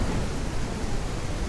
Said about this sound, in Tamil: அப்படி பொழக்குது மழை.